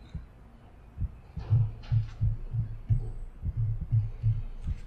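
Heartbeat sound effect from the video game Omori, a soft, steady lub-dub pulse repeating about every half second with a low throbbing tone, quiet and alone.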